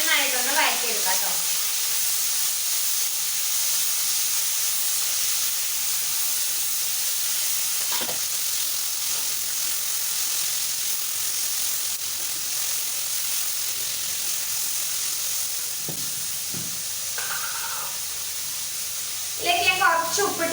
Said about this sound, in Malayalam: ഇനി നമുക്കിങ്ങനെ നന്നായിട്ടൊന്ന് വഴറ്റിയെടുക്കാം കേട്ടോ.